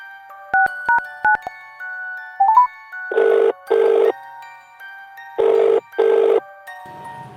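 A phone call is placed: a quick run of dialing beeps, then loud, close ringback tones in two pairs of buzzing bursts, each pair followed by a pause.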